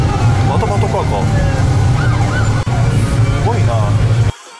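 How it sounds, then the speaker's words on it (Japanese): A police car siren wails with rising and falling sweeps outside an abandoned hospital in Niigata Prefecture, Japan, loud over a constant low rumble, with people talking nearby. "またパトカーか"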